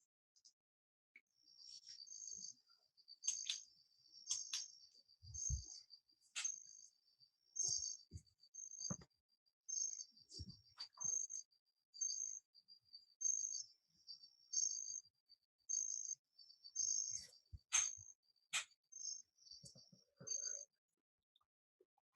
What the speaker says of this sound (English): those what you were listening to were various Bornean tropical frogs